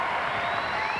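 A frenzied crowd at a 1993 AVP beach volleyball final on Cape Cod roars in a steady, dense wash of cheering and applause, with no break across the short moment.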